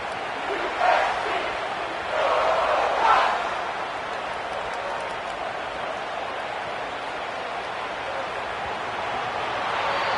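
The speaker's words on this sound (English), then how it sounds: "We'll see if they're able to come together against this very hostile crowd." Hostile stadium crowd in an EA Sports College Football game, a broad roar of many voices swelling in a couple of surges before settling into a steady distant wash of noise.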